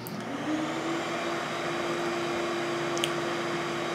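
Suction vacuum running steadily at a sub-slab depressurization test point in a basement, a constant droning hum with a faint whine, continuous and fairly close with no talk.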